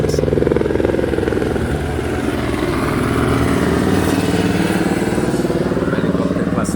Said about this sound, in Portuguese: o helicóptero passando aí.